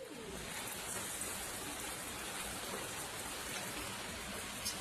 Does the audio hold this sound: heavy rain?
yes